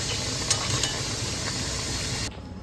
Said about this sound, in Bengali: এবার এটাকে ভাজতে হবে